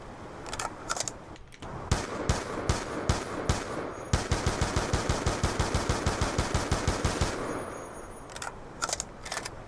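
Gunfire from a shooter video game: a few scattered single shots, then a long, rapid automatic burst of evenly spaced, loud, sharp reports, followed by more sparse shots, with no talking.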